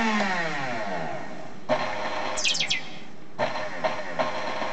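A Sunbeam Mixmaster EM 3 electric stand mixer runs close by, its motor whine shifting pitch as the speed control is changed, with brief clicks and rattles between settings.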